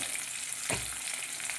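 Vegetables fry in a pan for tomato chutney, with a continuous soft, hissing sizzle and one brief stir or scrape partway through.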